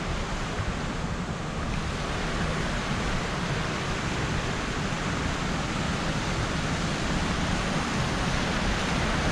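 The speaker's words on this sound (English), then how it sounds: "That's again another little waterfall, not the big one." Small waterfall in a gorge near Superior, Wisconsin, a steady broadband rush of falling water that stays constant and fairly loud throughout, with some wind noise and no voices.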